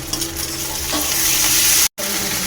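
Spice paste of ginger, garlic and onion frying in oil while being stirred, a loud, steady close-up sizzle with scraping stirs throughout, broken by a brief cut to silence near the end.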